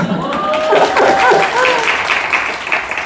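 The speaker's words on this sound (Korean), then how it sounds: "박수 쳐주세요" Applause from a seminar crowd with a voice speaking over it, the clapping steady and fairly loud throughout.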